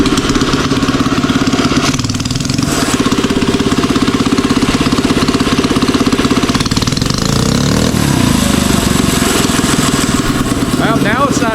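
A 79cc mini bike engine runs on a lean fuel mixture, its loud, close, continuous rattling buzz wavering and bogging slightly in pitch throughout, with no pauses.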